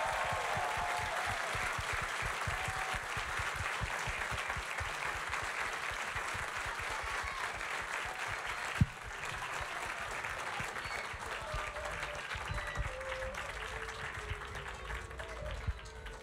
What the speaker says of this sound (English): How about a hand?